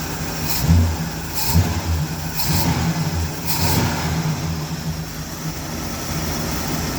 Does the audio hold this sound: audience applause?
no